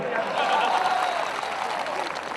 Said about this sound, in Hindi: सरदार की ताली बजा दो